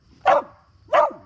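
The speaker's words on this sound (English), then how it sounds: "He's the beloved beagle mix of my wife and I." A beagle mix dog barks twice, loud and close, with a short pause between the two sharp barks.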